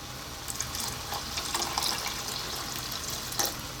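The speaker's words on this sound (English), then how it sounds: "now we're going to get some water in there." Water poured into a pot of frying lentils for dhal, a continuous splashing rush with faint hissing and a few brighter splashes, fairly quiet and close, with no voices.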